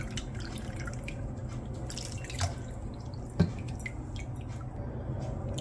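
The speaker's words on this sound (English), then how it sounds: "then you're going to rinse with some water" Water drips and trickles as guava is rinsed, a soft steady wet patter with a couple of faint splashes, close and fairly quiet.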